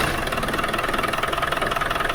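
A Land Rover Defender 300 Tdi diesel engine, freshly serviced, catches at once and settles into a loud, steady, slightly knocking idle close by with no talk over it.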